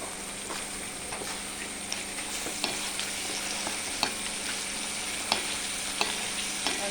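Green chillies and crushed bird's eye chillies sauté in a pan, a steady close sizzle and hiss running throughout with regular light taps and scrapes of stirring.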